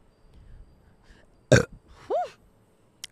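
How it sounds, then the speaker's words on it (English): A person burps loudly and close after eating croissant: one sharp, hefty belch followed by a shorter, tonal, rising-falling croak, then a tiny click, in otherwise quiet surroundings. "I'm going to burp."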